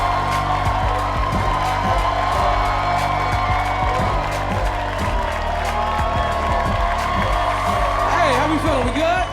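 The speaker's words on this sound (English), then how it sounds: "Clap it up for Calvin Evans!" A club crowd claps and cheers for hometown comedian Calvin Evans, steady loud applause with scattered whoops and shouts running through the whole stretch, voices rising near the end.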